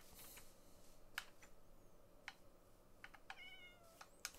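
Cats in a video game meow softly a few times over faint clicking and light ticking sounds, quiet and sparse throughout.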